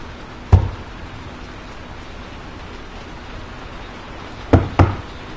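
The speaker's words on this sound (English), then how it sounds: "she decides knocking on the casket would make sense" Knocks on a casket: one single knock, then after a long pause a quick pair of knocks. They are close and fairly loud over a faint hiss, with no talk.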